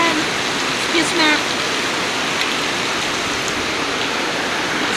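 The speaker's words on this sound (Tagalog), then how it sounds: "Lakas ng ulan." Heavy rain pours outside in a steady, dense hiss that fills the whole stretch, with a brief voice heard faintly near the start.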